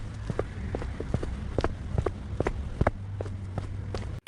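Footsteps approach at night in a hushed, rainy setting, a series of distinct steps thudding at an uneven walking pace over a low steady hum, moderately close with no voices.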